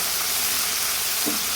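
Green chilies fry in a pan for cucumber dal, giving a steady, close sizzle with a brief stir near the end and no talking.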